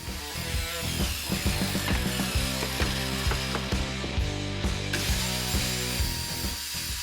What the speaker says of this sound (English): lined that up with the laser on my miter saw, set up a stop block at that point and then made my first lot of cuts